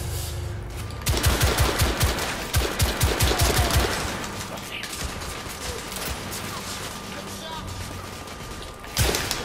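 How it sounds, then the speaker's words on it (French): Rapid minigun fire in The Order 1886 rattles out as a dense, close burst of shots, then trails into scattered mechanical clatter and softer game sounds, with a final sharp report at the end. "il a carrément un minigun ou je sais pas quoi, mais il enchaînait en tout cas les tirs"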